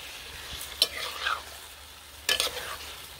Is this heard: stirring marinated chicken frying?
yes